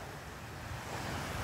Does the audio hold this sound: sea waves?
yes